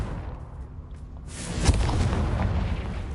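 The Confringo fire spell in Hogwarts Legacy sets off a deep, booming explosion after a moment of quiet ambience, followed by a rumbling roar that lingers.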